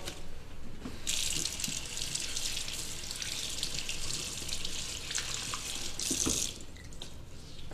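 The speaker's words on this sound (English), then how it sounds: "make sure to wash the beets off with cold water" Cold tap water runs steadily into a sink as beets are washed, a loud continuous splashing rush that starts after a second, shifts briefly near the end, and then stops.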